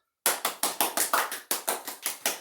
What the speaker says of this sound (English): So we'll do a little round of applause for that.